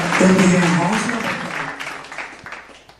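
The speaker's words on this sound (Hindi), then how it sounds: "बच्चे के लिए जोरदार तालियां दें।" A church congregation at St Thomas Church of Pakistan applauds a child, a burst of clapping that starts under a brief voice and then fades away over a few seconds.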